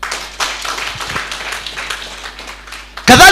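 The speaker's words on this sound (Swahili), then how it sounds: "Jipigeni tu makofi." A church congregation claps hands together in a sustained burst of rapid, scattered applause, fairly close and steady, ending with a brief loud sound at the close.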